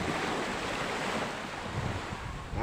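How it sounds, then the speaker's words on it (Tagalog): Ocean waves washing onto a seashore, a continuous close hiss and rumble of surf with wind noise on the microphone, steady and moderately loud throughout with no voices. "at ang ating baybaying dagat"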